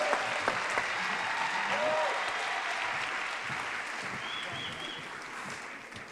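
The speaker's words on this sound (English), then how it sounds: "please give Dr. Marsden a big San Bernardino City Unified round of applause" A large crowd at a school district employee gathering gives a steady, dense round of applause that slowly tapers, with a few voices and whoops mixed in.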